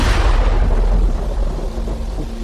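Deep, loud rolling thunder rumbles steadily for a couple of seconds in a horror game story scene with lightning, with no voices over it.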